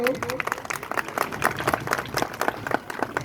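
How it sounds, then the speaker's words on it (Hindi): A crowd claps steadily in a dense, continuous patter of applause at a school Independence Day program, with voices mixed in beneath it. "तालियां बजाते चलें सभी लोग"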